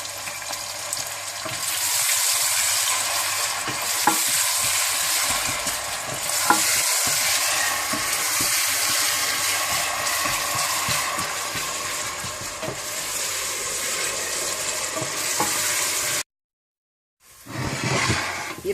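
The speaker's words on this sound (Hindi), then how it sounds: "प्याज को आप हल्का सा ब्राउन कर लें, साथ ही आप नमक भी डाल दें हस्बे ज़रूरत।" Onions browning with salt in a pan for keema aloo, a long steady sizzle with soft stirring noises, a short silent gap near the end before the frying resumes.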